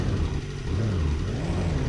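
An MG Metro rally car in Colin McRae Rally 2.0 drones with a steady, low mid-range engine note, holding fairly constant revs throughout without pauses.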